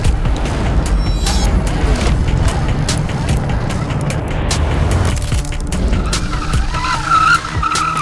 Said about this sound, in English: We're testing the front brake.